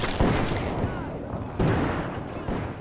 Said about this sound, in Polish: już słyszymy strzały, więc pewnie już napadają gdzieś na pociąg